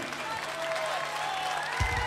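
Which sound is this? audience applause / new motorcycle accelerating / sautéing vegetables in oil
audience applause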